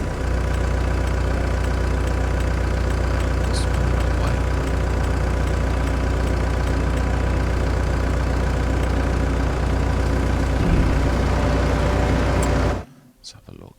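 A small tractor engine in the Farming Simulator 25 video game runs at a steady, loud idle-like drone for about twelve seconds, then cuts out abruptly into near silence.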